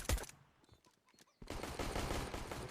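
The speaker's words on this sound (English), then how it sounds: "Little bit of a messy gunfight" Rapid bursts of automatic rifle fire and scattered shots in a Counter-Strike: Global Offensive gunfight on the Inferno map, a few sharp shots and brief quiet giving way to a sustained, loud fusillade.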